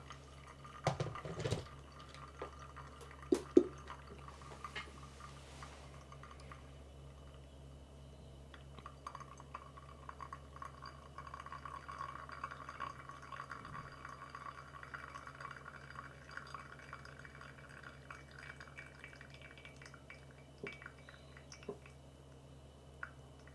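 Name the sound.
water dripping through pour-over coffee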